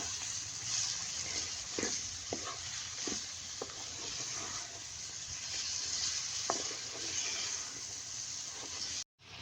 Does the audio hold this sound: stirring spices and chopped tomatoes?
yes